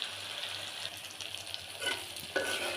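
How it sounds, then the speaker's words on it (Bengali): Prawns fry in a pan over lowered heat, giving a steady soft sizzle with faint stirring, continuous and moderately quiet with no voices. "আস্তে আস্তে ভালো করে ভাজা হোক।"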